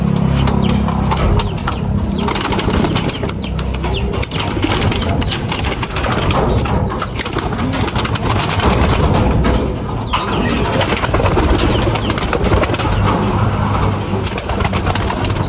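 Pigeons in a loft coo and rustle in a busy, continuous chorus, with occasional wing flaps close by and a faint engine hum behind them.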